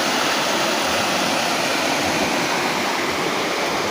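Dense, steady rush of river water fills the whole stretch, loud and unbroken with no voices.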